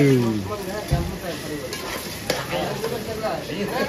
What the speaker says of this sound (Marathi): भाकरी गरम करते